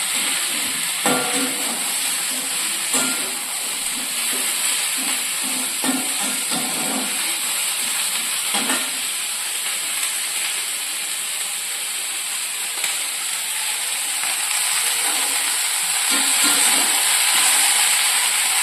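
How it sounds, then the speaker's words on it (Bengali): Cabbage lightly frying in a black kadai for a paneer roll: a close, steady sizzle and hiss that runs the whole time, with faint scattered stirring knocks underneath. "এই দুটো একটু হালকা ফ্রাই করে নেব"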